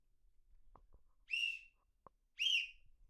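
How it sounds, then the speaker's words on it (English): Two short, shrill whistle blasts about a second apart, loud and close, with soft clicks and handling noises in between. "I still haven't full-blown blasted this whistle"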